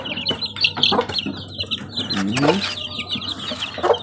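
Half-grown chicks kept indoors on a floor under a lamp give repeated high chirps and soft clucks throughout, close and fairly loud, with a rougher rooster-like call in the middle.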